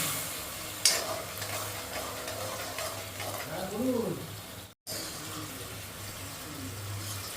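A spoon stirs a sugar mixture for dhokla in a pan, producing a steady close scraping swish over a hissing, bubbling background that drops out briefly before resuming.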